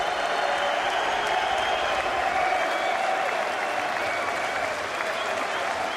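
A large British crowd at a fight event in the 130-year-old Royal Albert Hall applauds and cheers in a steady, loud, dense wash that continues unbroken throughout.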